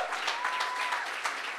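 A room of people applauding participants at a company showcase, a soft, dense patter of clapping at moderate distance, steady and fairly quiet.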